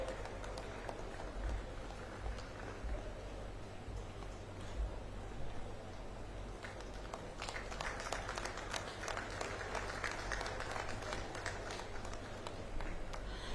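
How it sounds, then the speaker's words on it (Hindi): Long, unbroken applause from a big audience at an awards function for security forces in Jagdalpur, a steady wash of many clapping hands that grows somewhat fuller in the second half. "तालियां लगातार।"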